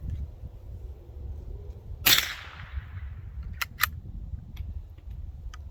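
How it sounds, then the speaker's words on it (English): The bolt of a Canadian .22 long rifle sliding closed, a single sharp metallic clack with a short rattling tail, followed by a couple of small clicks, close and alone against faint background noise. "You just drop your round in and it slides up the feed ramp when you close the bolt."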